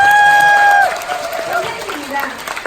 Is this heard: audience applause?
yes